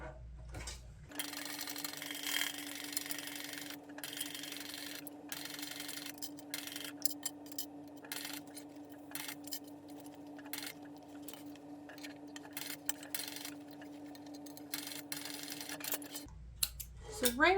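A sewing machine runs steadily at close range, stitching around the curve of a messenger bag gusset and then backstitching, its hum continuous for most of the stretch before stopping.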